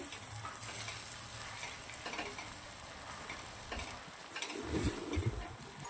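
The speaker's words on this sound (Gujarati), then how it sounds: "હવે આપણે જે લોટ શેકીને રાખ્યું છે સંભારનો એ નાખી દેવાનો છે. ચણાનો મસ્ત મિક્સ કરી દેવાનું છે." Roasted gram flour being stirred into okra curry in a pan, a low continuous sizzle with soft scraping and a cluster of louder stirring knocks toward the end.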